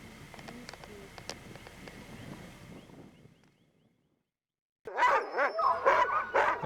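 A team of sled dogs in Alaska in fall barking and yipping excitedly, several close, loud overlapping barks bursting in after a quiet stretch of faint outdoor ambience with scattered sharp ticks.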